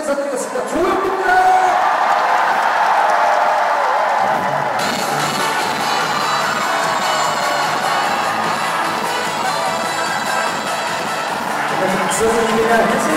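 A large crowd at an outdoor picnic concert cheers, shouts and whoops loudly and without a break, with children's voices and some speech mixed into the roar.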